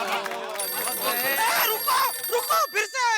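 A mobile phone rings with a steady electronic tone over a busy comedy scene, with several people talking loudly over it throughout.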